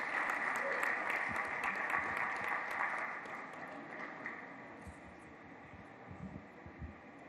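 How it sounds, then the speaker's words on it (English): Applause at a university hub launch event, a steady wash of clapping that fades gradually toward the end. "Another round of applause for Professor Ogundansi."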